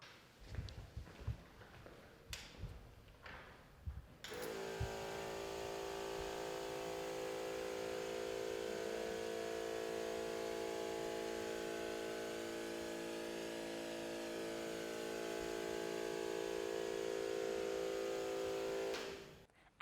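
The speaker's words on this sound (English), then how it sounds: "we're going to demo the sprayer with the electrostatic function on" A Ryobi 18V ONE+ electrostatic sprayer starts after a few handling clicks and then runs in a steady, moderately loud motorized whine and hum. The sound holds for about fifteen seconds before cutting off.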